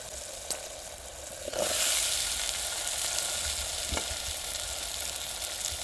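Eggplant pieces hit hot oil with a few sharp clatters, then a bright, steady sizzle and hiss carries on close by, with occasional stirring knocks and no talking.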